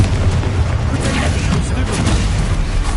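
A Confringo explosion spell cast in Hogwarts Legacy, a loud, dense, rumbling boom with crackling that sustains for a few seconds, heavy and close.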